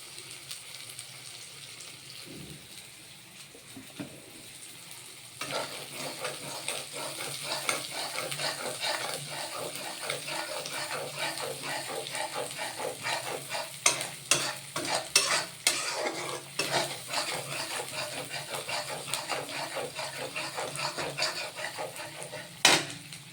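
Mustard oil sizzling in a pan while food is stirred, a quieter start giving way to steady frying hiss with repeated scraping and clinks of the utensil.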